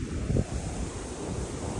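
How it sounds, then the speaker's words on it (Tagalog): Steady wind in Okinawa blasts against the microphone with a low roar, continuous and fairly loud, with no talking. "Ang super hangin."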